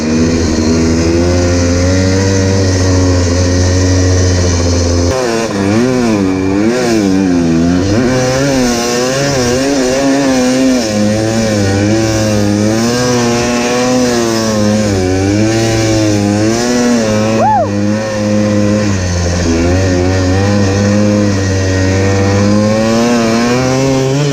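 A Timbersled Yeti snow bike engine revs and drones steadily through a snow ride in Utah, loud and close throughout with rising and falling pitch as the throttle is worked, with no speech.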